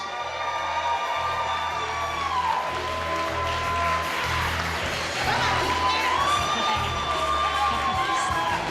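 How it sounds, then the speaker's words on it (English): Wedding guests at a reception toast applaud loudly and cheer, with whoops and shouted voices rising over sustained clapping that fills the room for several seconds. "can I please get another big round of applause for Leslie's parents, Mona and Richard Haras"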